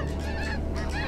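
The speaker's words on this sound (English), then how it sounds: "Mature adult snow goose." A flock of snow geese honk loudly and close in Montana hunting country, several overlapping nasal calls packed into about a second with no voices.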